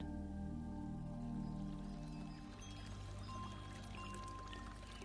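Continuous water pouring and splashing fills the scene, a steady broadband rush with faint wind-chime ringing mixed in, no voices.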